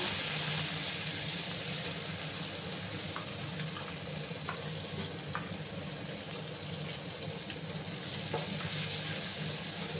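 Spice paste sautés in a pan, a steady, moderately quiet sizzle and hiss with a low background hum, punctuated by faint scattered ticks from stirring, with no talking.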